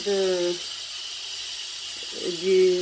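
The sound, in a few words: steam escaping from a Cookeo pressure cooker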